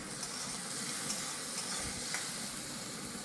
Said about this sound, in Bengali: পেঁয়াজটা প্রায় ভাজা হয়েই গেছে